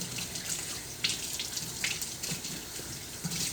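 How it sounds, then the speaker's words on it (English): A kitchen tap runs steadily while hands are rinsed under it after mixing a homemade protein bar recipe, a continuous close hiss of water with small splashy shifts as the hands move, no talking. "Okay, hand washing."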